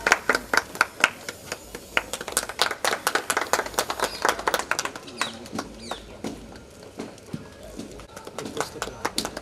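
Audience applause at a village library inauguration in Mahudiyapura, with dense irregular clapping swelling and thinning over the whole stretch, fairly close and lively, plus some voices in the crowd.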